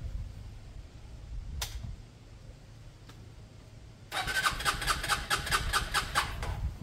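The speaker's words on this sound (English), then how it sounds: "Let's fire it up. It fires up, I'm sure." A Lexmoto Michigan 125cc motorcycle, just fitted with an ignition fix, starts after a quiet stretch with a couple of faint clicks, then settles into a steady, close, mid-pitched idle.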